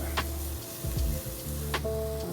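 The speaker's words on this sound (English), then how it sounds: "Start to saute and get heat on it." Bolognese ingredients sautéing in a hot pan, a soft sizzle with a couple of sharp utensil clicks and some stirring rattles, close and moderately quiet, no voices.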